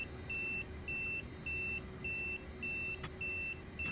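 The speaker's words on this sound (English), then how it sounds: "I don't know what that beeping is." Steady warning beeps sound in a train cab in Train Simulator Classic, a sequence of evenly spaced high-pitched tones, each about a third of a second long, over the low rumble of the cab and with no talking.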